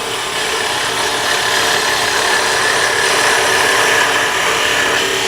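A skew chisel smooths a spinning wooden tool handle on a lathe, giving a steady, close, even scraping hiss that runs unbroken for the whole stretch with no voices.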